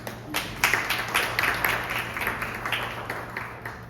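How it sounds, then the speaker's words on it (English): A small round of applause from an audience at a design and architecture panel event in Ahmedabad: a modest patter of hand claps, steady and fairly close, fading slightly toward the end with no talking over it. "Small round of applause, please"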